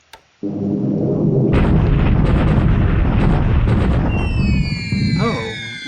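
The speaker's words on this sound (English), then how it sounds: "So this is my night bombing raid of Palembang." Explosions rumble and crack during a night bombing raid on Palembang in the wargame War in the Pacific, a loud dense barrage of blasts that starts abruptly and continues, with tonal whistling layered on top near the end.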